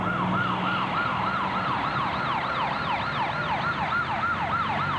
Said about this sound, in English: Finally, fire and ambulance units arrive.